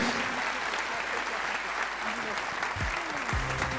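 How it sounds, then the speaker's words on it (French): An audience at a hotel tourism award ceremony gives a loud, sustained round of applause, with thick, even clapping throughout and a few low voices or thuds showing through near the end. "avec un tonnerre d'applaudissements, s'il vous plaît"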